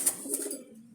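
A Jalali pigeon gives a short, soft, close coo, a low throaty murmur lasting under a second.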